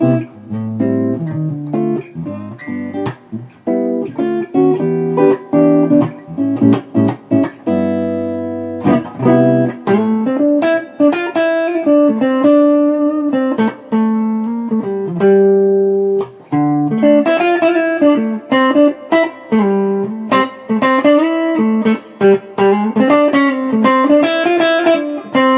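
Clean, jazzy electric guitar played straight into an Orange Super Crush 100 amp with no delay, a stream of plucked single notes and chord stabs, close and dry without talk.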